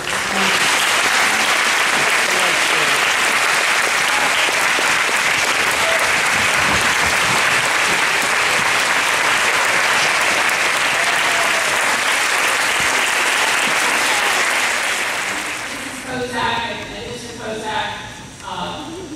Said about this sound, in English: please help me give a round of applause for her